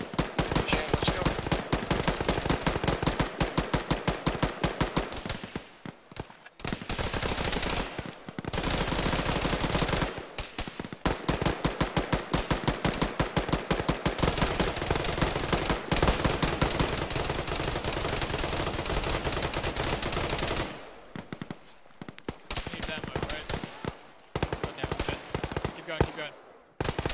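Long, loud bursts of machine gun fire in an ArmA firefight rattle almost nonstop, with rapid shots in dense volleys, a few short pauses, and heavy firing resuming toward the end.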